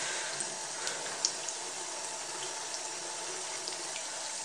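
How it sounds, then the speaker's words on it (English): Steady running tap water pours into a sink while makeup brushes are rinsed, a continuous near, even rush with a few small splashes and no talk. "Just kind of keep rinsing and lathering and rinsing and lathering until the brush basically runs clean."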